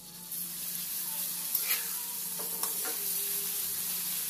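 Pounded chili paste hits about a spoonful of hot vegetable oil and sizzles loudly and steadily, with a few sharp clinks and scrapes of stirring breaking through the continuous frying hiss.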